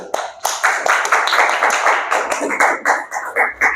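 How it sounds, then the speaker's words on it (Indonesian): A classroom of students claps for a classmate, with distinct, fairly close hand claps in an uneven rhythm that become more regular toward the end, and light voices mixed in. "tepuk tangan buat Daniel."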